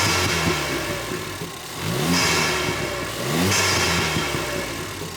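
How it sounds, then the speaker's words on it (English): A Ford Fiesta ST fitted with an ITG induction kit revs twice, each blip rising sharply with a throaty intake snort before settling back to a close, steady idle. "it makes the noise I absolutely love, which is like a little snort."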